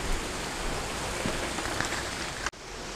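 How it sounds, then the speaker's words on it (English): Heavy rain in a downpour, a dense, even hiss of drops pounding surfaces close by, steady throughout apart from a brief cut near the end. "it is a downpour. It is pouring."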